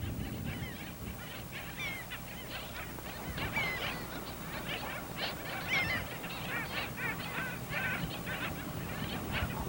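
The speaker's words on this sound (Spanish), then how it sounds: "El pájaro rayador es una de las aves más interesantes que viven en la orilla del río." Flock of black skimmers on a riverbank in Manu giving a steady chorus of honking, yelping calls, many birds overlapping throughout over a low outdoor rumble.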